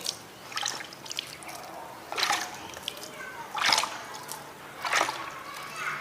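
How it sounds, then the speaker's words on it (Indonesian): Water poured over seedling growing medium splashes and trickles in four or five separate bursts at a steady pace, with light dripping between them. "pertama kita basahi dulu media semai"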